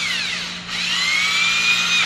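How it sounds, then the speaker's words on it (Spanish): A cordless battery-powered drill whirs alone at close range, its motor pitch dipping briefly and then rising again to a steady high whine. "Vamos a tomar el ejemplo de lo que es el taladro a baterías."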